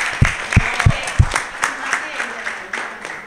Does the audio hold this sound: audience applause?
yes